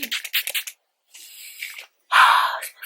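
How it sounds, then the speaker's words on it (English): Three quick hissing bursts of Make Up For Ever Mist & Fix makeup setting spray, close by, separated by short pauses, with the last burst longest and loudest. "I am spraying myself with the Makeup Forever Mist and Fix"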